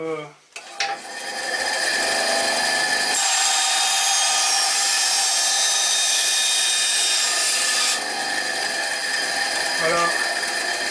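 A band saw runs steadily through wood with a loud, sustained high whine and a heavy cutting roar that starts abruptly after a brief knock, holding nearly unchanged for about seven seconds before easing slightly as the machine winds down.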